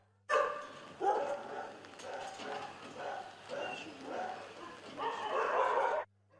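Several dogs bark in repeated bursts at an animal shelter that houses over 170 dogs of many ages and breeds; the loud, overlapping barks come close together and are heard without any talk.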